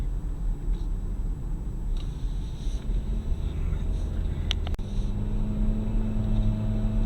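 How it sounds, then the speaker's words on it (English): Road noise inside a 2019 Chevrolet Equinox Premier on the move, a low steady rumble with a soft airy hiss and a brief knock partway through. "There's a little road noise, but not much"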